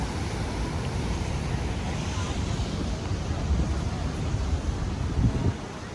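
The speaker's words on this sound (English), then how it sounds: "So big waves." Big waves break on volcanic rocks at the natural pools of Porto Moniz, Madeira, a steady roar of surf with wind buffeting the microphone.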